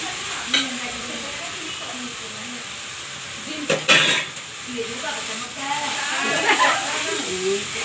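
Jackfruit peel tossed into a pan of browned onions for a curry, frying with a steady sizzle and hiss while it is stirred, a few scraping clatters of utensil against pan, and someone talking over the cooking.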